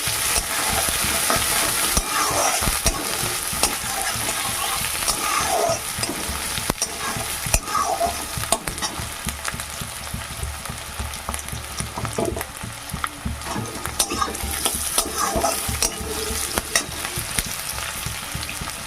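Green chillies and chopped onion fry in a hot pan, a steady loud sizzle running the whole time with scraping stirs of a spatula breaking through at intervals; no voices.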